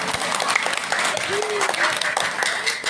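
Audience at a youth Quran recitation and syarahan contest in Cianjur applauding, a dense, steady patter of many hands clapping at once, with voices murmuring underneath.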